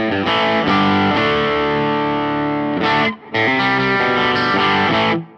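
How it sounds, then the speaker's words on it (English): Electric guitar played through the overdrive setting of a Fender Mustang Micro headphone amp, loud and gritty sustained chords with a brief gap near the end before the playing resumes, no talking. "I'm assuming green box is like a overdrive style pedal that's green"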